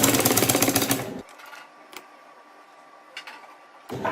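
A sewing machine stitches a poncho sleeve cuff in one loud, steady burst, then stops and leaves a quiet room with a few faint clicks before the motor starts again at the end.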